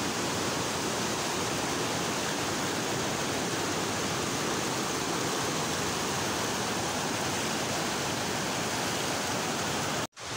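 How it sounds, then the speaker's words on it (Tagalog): The strong current of the Agus River in Lanao del Norte rushes in a loud, steady, close roar of churning water that runs without a break and cuts out abruptly just before the end. "ang lakas ng alon."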